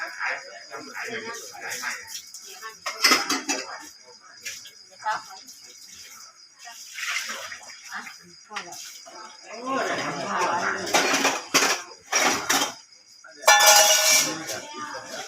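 Dishes, pots and pans being washed with water, with irregular clinks and knocks of crockery and metal, intermittent splashing, and a harsher clatter near the end, heard alongside people talking.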